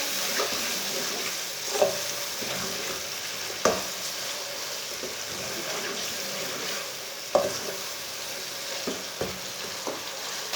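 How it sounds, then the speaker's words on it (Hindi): Chopped tomatoes and green chillies frying in a pan for an aloo gobhi dish, a steady close sizzle broken by a few sharp scrapes of stirring, with no talk. "2 बारीक कटे हुए टमाटर डाल लेंगे। 5 सब्ज़ मिर्च डाल लेंगे। 2 मिनट तक भून लेंगे।"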